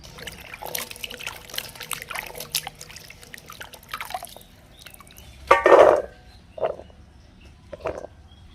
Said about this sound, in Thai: หัวมันที่หนูเมื่อปอกเปลือกเสร็จแล้วก็ล้างให้สะอาด